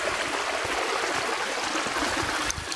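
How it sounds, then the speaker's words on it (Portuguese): A stream running along a hiking trail in Vale do Pati, Chapada Diamantina: a loud, steady rush of water, close and constant, with no voices. "enfrentando aqui esse riacho"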